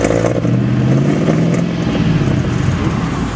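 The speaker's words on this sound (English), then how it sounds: "I'll rev it up again for you" A Land Rover engine revs loudly up close with the choke on, a throaty, rough roar with clattering undertones that swells then eases slightly, no talking.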